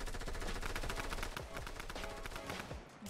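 A drum gun fires in rapid automatic bursts during a Fortnite: Battle Royale match, a dense continuous rattle of shots with overlapping gunfire throughout.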